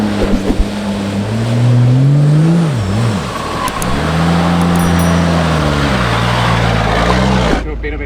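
A Toyota Hilux engine labours off-road through washouts on a Cape York track, the loud close engine note rising and falling with gear and throttle changes amid rough rumbling.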